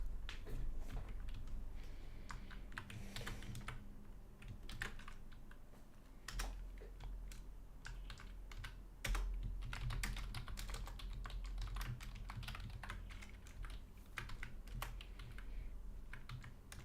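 Steady typing on a separate computer keyboard at a desk, continuous rapid key clicks with brief pauses, close and moderately loud, no talk.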